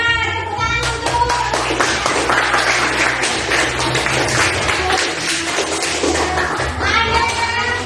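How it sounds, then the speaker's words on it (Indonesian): Classroom applause for a student's correct answer in a school science lesson, a short burst of quick hand claps from children, with a teacher's and kids' voices heard around it. "tepuk tangan untuk."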